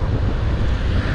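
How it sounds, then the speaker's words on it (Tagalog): Strong wind roars across the microphone during a long-distance motorcycle ride on a highway, a loud, steady low buffeting rush with no voices heard. "Lakas ng hangin pa rin."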